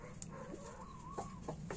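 Chickens in a coop, including young hens from last year, make faint, close clucks and short cackling calls in a quick scattered sequence over a low background hum, with no voices.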